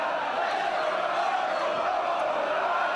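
A steady, dense roar from a wrestling crowd cheering for Nigel McGuinness and Colt Cabana, sustained and fairly loud throughout, with no distinct breaks or single voices standing out.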